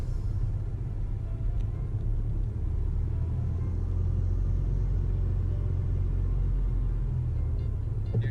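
A project truck's engine idles in park with a low, steady rumble that swells slightly as it is revved, close and continuous with no talking.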